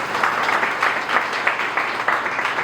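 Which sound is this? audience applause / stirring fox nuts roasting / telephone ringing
audience applause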